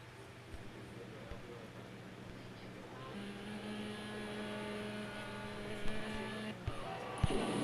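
Race car engine in the CSR2 racing video game, a fairly quiet steady drone with a sustained tonal hum that rises slightly toward the end, heard mostly alone at low level.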